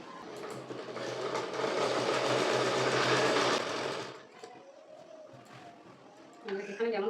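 A sewing machine stitching elastic onto a skirt, running in one loud continuous burst for about four seconds, then stopping, followed by quieter handling sounds and a brief voice.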